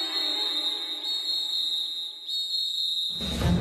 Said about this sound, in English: blew 3 times upon her silver whistle